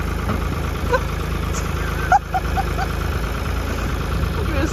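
A forklift engine idles at a steady low rumble, close by and continuous, with a few faint clicks and knocks on top of it.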